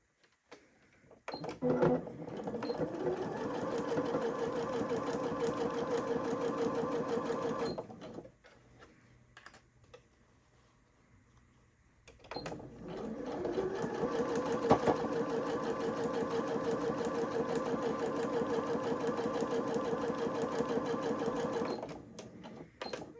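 A sewing machine runs steadily for several seconds, stops briefly with near silence, then starts up again and stitches continuously before halting.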